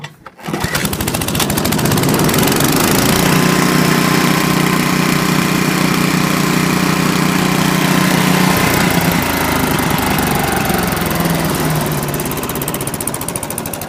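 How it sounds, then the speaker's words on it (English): A bush hog brand mower with a 42-inch cut, towed behind a four-wheeler, starts up and runs at a loud, steady engine drone that stays close and continuous. "This is my four-wheeler bush hog."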